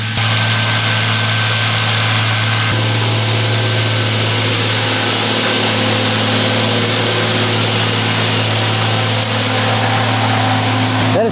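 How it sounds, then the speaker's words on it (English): A tree-trimming machine with four big swinging arms fitted with circular saw blades works down a row of trees, giving a loud, steady engine drone with a constant high whine throughout. "He's got these 4 big swinging arms that have basically skill saw blades on them."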